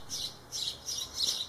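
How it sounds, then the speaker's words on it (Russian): Small birds chirp outdoors in short bright bursts repeating every half second or so, moderately close and clear over a quiet background. "Птички стрекочут, мешают, конечно."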